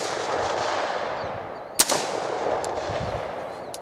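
An AR-15 rifle fires a single sharp shot at a wooden target outdoors, loud and close, standing out over a steady wind-like background rush.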